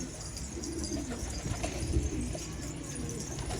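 Young tumbler pigeons coo softly nearby in a low, murmuring rhythm over faint background noise, with no voices in between.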